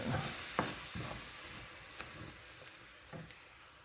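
Spicy bourbon whiskey BBQ sauce stirred in a pan: a soft background sizzle with scattered scraping clicks from the utensil, quiet and close.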